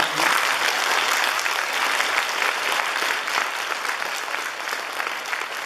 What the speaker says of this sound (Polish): Myślę, że przyłączymy się brawa.